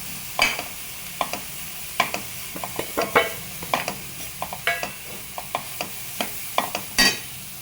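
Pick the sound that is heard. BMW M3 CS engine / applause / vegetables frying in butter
vegetables frying in butter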